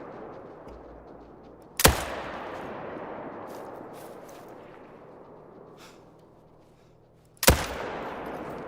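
Two loud .30-06 hunting rifle shots in theHunter: Call of the Wild, several seconds apart, each a sharp crack followed by a long rolling echo fading into quiet outdoor ambience.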